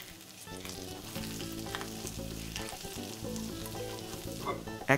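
Onions frying in fish oil for Bengali fish chops give a steady, close sizzle with soft stirring, over a constant low tonal hum, with a brief louder burst at the end.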